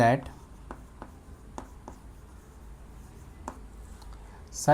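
Marker or chalk writing on a board during a geometry class, marking a 1 cm segment along a ray; a series of short, sharp strokes and taps spaced through the clip, with a voice at the start and end.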